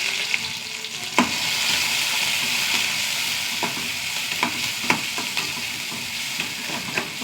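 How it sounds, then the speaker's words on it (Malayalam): Chopped onion, mustard seeds and dried red chillies fry in hot oil for a spinach cheera curry, giving a steady close sizzle broken by occasional sharp pops and spatula scrapes, with no voices. "ഉള്ളി നന്നായി മൂത്ത് വരട്ടെ."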